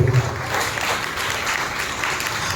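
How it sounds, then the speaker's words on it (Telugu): A church congregation at a Sunday worship service bursts into loud, dense clapping that carries on steadily from start to end, filling the hall with many hands at once. "బిగ్గరగా చప్పట్లు కొట్టి ప్రభువు భయపరిచింది"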